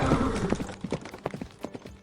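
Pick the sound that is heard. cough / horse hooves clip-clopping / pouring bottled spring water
horse hooves clip-clopping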